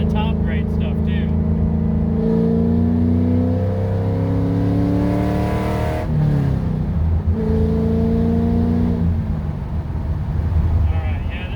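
A 1967 Pontiac GTO running on top-grade racing fuel accelerates on the road, its engine note climbing in loud, steady pulls that drop and rise again midway, with wind rush throughout.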